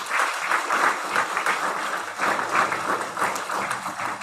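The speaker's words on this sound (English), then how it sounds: "But if we could give a round of applause for Tina first." Applause from attendees at a school board meeting, a steady round of clapping lasting several seconds with a brief dip midway, moderately loud and fairly close.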